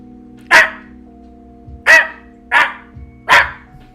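A person imitating a dog bark, four short sharp yapping barks spaced about a second apart, close and loud against a quiet hum.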